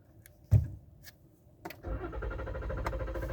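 A car that had refused to start after jamming to a grinding stop fires up: a thump and brief whirr, then the engine catches and settles into a steady low idle, heard close and alone.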